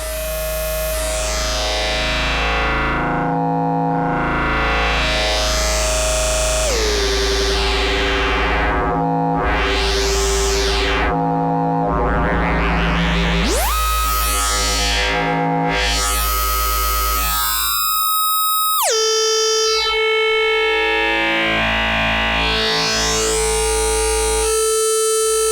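An Instruo Cs-L synthesizer module sounds a tone built from summed sine waves, continuous and loud, sweeping through rising and falling harmonic patterns with abrupt pitch jumps.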